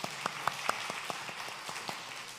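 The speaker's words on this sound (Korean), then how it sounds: "다 감사의 박수 한번 하도록 하십시다." Scattered clapping from a church congregation during Sunday worship, a few distinct sharp claps at first that thin into light, sparse applause, fairly quiet and distant in a large room.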